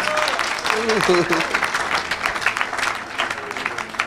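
A church congregation breaks into applause, a dense patter of clapping from a sizable crowd under a preacher's voice speaking French over it, continuing for several seconds at moderate loudness.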